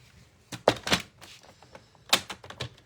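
Black cardstock is cut on a paper trimmer, giving a few sharp, close clicks and sliding thunks separated by quiet pauses.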